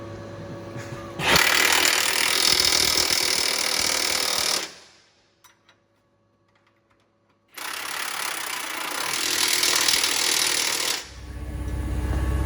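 A loud power tool rattles and hammers as it tightens down custom steel plates on a truck frame for a sliding fifth wheel, two long bursts close by separated by a few seconds of near silence.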